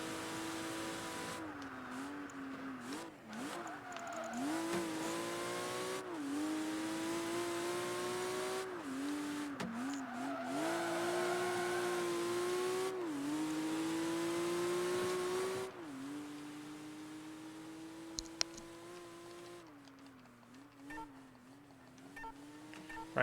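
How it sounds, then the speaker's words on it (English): Car engine and tires in the racing video game Project Gotham Racing 3, a loud, sustained engine note that rises and falls through repeated gear shifts and revving, with occasional squeals, steady throughout. "Car got louder."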